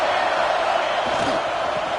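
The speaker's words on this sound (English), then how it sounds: "This crowd ready to make its presence known." Dense, steady roar of a football stadium crowd cheering and shouting throughout, loud and continuous with no clear breaks.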